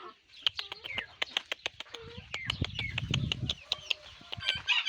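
Hens and chicks cluck and peep close by in quick, sharp bursts during feeding, with a soft rustle underneath.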